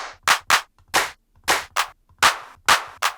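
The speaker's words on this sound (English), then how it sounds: "Then let's add a clap." Electronic clap sample for euro trance drums, programmed on the off beats: seven sharp, bright claps in a steady, evenly spaced rhythm, heard alone and dry with short gaps of silence between hits.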